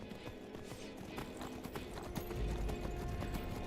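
Horse hooves clip-clop in a steady galloping rhythm in Skyrim, fairly loud and close over a low rumbling game soundscape, with no talking.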